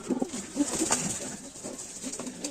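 Soft, low cooing from pigeons repeats several times against faint background noise, with no voices nearby.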